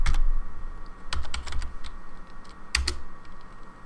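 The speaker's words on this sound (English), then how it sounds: "we'll type the starting setup there to make it run." Fingers type a command on a computer keyboard, setting up an OpenWebRX receiver server on a Raspberry Pi 3, heard as irregular bursts of clicking keystrokes close up with short pauses between them and no talking.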